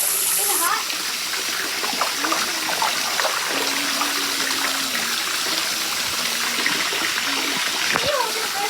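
Water pours steadily from a tap into a tub, making a continuous rushing splash. Voices talk over it, with some tonal sounds in the background.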